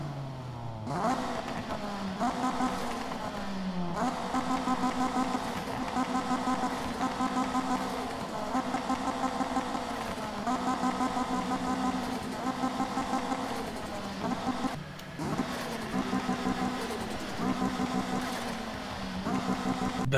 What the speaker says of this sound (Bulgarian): нека излезем навън и да чуем как звучи тази кола